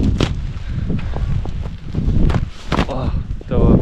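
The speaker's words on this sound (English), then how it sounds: "the weather is really windy" Strong wind in Sapporo, Hokkaido, Japan buffets the microphone in loud, rough gusts, with rumbling bursts and a faint voice underneath.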